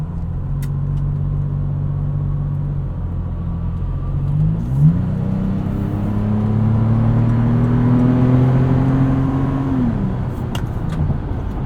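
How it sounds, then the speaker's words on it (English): A 2020 Toyota 4Runner engine with a TRD aftermarket exhaust idles with a deep exhaust drone, then revs up and holds a higher pitch before settling back, loud and close. "It's a little drony sometimes, but it's actually a pretty livable exhaust."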